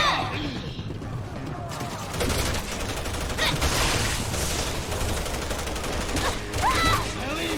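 Rapid bursts of gunfire in the survival horror game Resident Evil 6, dense and continuous over a busy mix of game effects, with a voice talking over it at times.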